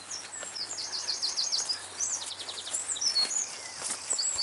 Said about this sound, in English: Oh, bird song's beautiful.